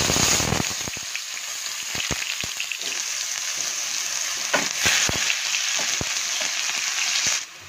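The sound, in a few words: onions frying in a pan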